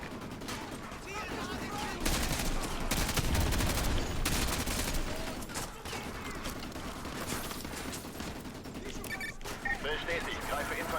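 Rapid bursts of gunfire crackle continuously in Call of Duty: Modern Warfare 2 Remastered, dense volleys with a few sharper shots, while a voice talks underneath.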